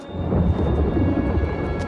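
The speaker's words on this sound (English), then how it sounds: "That is no natural storm." Deep, continuous rumbling thunder from an unnatural storm in the video game New World: Aeternum rolls steadily and fills the scene, with faint tonal game ambience above it.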